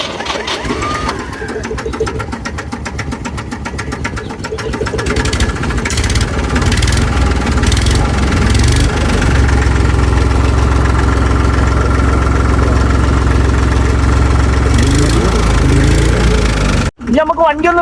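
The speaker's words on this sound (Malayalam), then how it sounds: "ഇനി ഇതിൻ്റെ എൻജിൻ്റെ സൗണ്ട് ഒന്ന് കേട്ടോളേ" A tractor with a four-speed gearbox including reverse idles close by in a loud, steady mechanical rumble with a knocking pulse that lifts slightly midway, briefly cutting out near the end.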